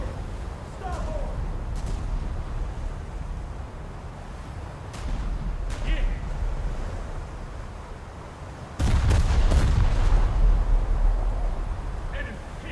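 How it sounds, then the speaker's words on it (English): Twelve-inch battleship main guns fire in a naval video game, a few heavy booming blasts over constant engine and water rumble, the loudest salvo near the end and close. "these 12-inch guns are just not going through his armor"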